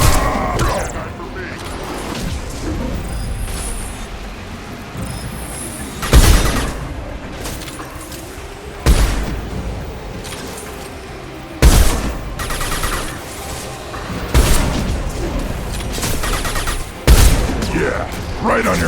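Gunfire in the video game Mass Effect 2, with sustained weapon fire and bursts punctuated by several heavy booming impacts at regular intervals, loud and close in a busy combat mix with voices occasionally heard.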